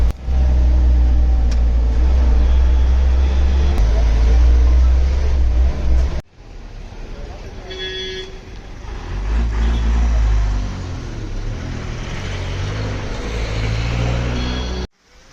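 A bus drives along a hill road near a golf course in Kodaikanal, its engine rumbling loudly and steadily before a brief cut, then continuing with road noise and faint voices.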